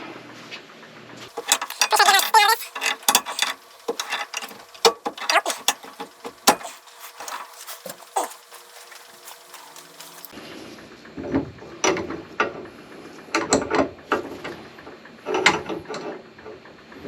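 A wrench tightens a Pentair Big Blue filter housing with irregular ratcheting clicks, scrapes and knocks in uneven bursts, close and fairly loud, with pauses between the turns.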